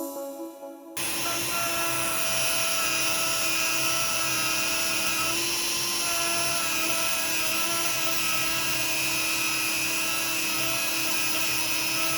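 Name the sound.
dull grinding wheel running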